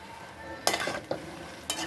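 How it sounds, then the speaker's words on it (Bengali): A spoon stirs a spiced curry with taro in a cooking pot, giving three short scraping clinks against the metal over a soft, low simmer. "5 মিনিট হয়ে গেছে, আবার নেড়ে দেবো"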